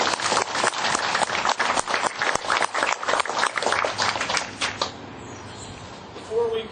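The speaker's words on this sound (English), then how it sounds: "please give yourselves and all those who support the Outer Banks Senior Games a well-deserved round of applause" An audience at the Outer Banks Senior Games 2015 opening ceremony claps in a dense, steady round of applause that tapers off after about five seconds into quieter room noise.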